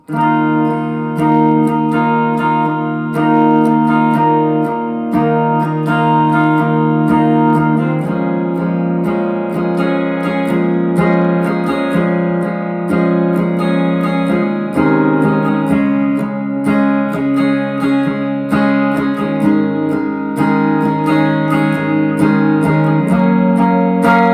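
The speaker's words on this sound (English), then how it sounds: "I'm going to play this strumming pattern here" Sustained, bright strummed guitar chords ring out continuously, changing every few seconds, with no voices.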